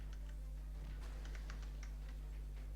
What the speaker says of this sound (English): I do apologise if you can hear my keyboard clicking away as well